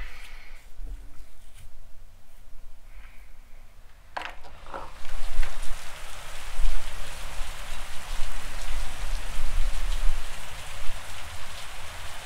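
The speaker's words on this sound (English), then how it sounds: "I could just like sit out here and just enjoy the rain" At the start of a storm, a quiet patter first gives way to a louder, close, steady rush of falling rain that keeps building, with a few soft handling noises and no talking.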